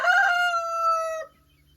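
A rooster in a backyard flock of hens crows once, a single loud, close, drawn-out call that stops abruptly, followed by quiet.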